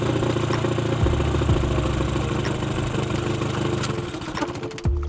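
Spare boat outboard motor running after a full service, a steady close mid-pitched engine chug with mechanical clatter and slight rises and falls in speed, alone without talk.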